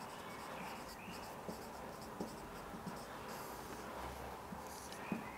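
Chalk or marker writing on a classroom board during a French lesson, heard as soft, continuous scratchy strokes with a few small taps, fairly quiet and close, with no talk over it.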